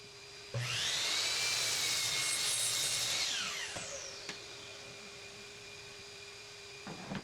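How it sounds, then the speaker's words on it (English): A miter saw squares the edge of a 1¼-inch-thick wooden bench top: the motor spins up with a loud whine, bites through the wood for about two and a half seconds, then winds down, followed by quiet hum and a few clicks. "so I can now cut it on the miter saw nice and square"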